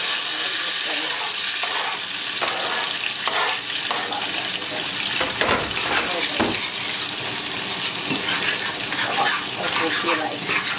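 Tomatoes fry in a pan with a loud, continuous close sizzle and occasional stirring clatter throughout, with speech briefly under the sizzling.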